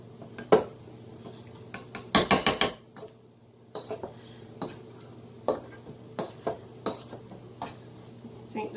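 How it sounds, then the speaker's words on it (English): A masher works through a pot of hot cooked potatoes, giving a run of sharp clanks and scrapes against the pot in an uneven rhythm, with a quick burst of repeated knocks near the middle. The sounds are close and clear, with no talking. "So we're going to mash these potatoes, and we're going to get them really good and mashed."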